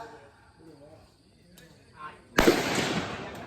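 Rifle shots fired on a military ranger sports shooting range: one sharp, loud broadband blast near the end follows quieter background sounds and faint distant talk.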